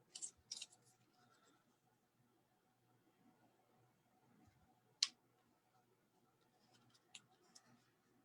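Scissors snip paper for a craft project, a few quick faint cuts near the start and one sharp snip in the middle, with soft rustling between in a quiet room.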